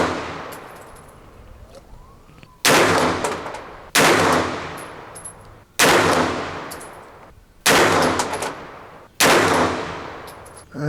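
A DEFGUNZ ALPHA 9 PLUS 9mm pistol-caliber carbine fires Mills ammunition: five loud, sharp shots, each ringing off and then decaying, spaced about one and a half seconds apart over a faint background.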